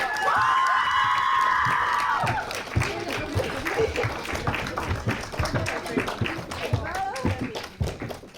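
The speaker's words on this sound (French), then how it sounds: "On les applaudit tous très fort!" Audience clapping for cosplay contestants on stage at a convention parade, applause swelling loud and sustained under crowd chatter and children's voices, with a brief whistle-like tone near the start.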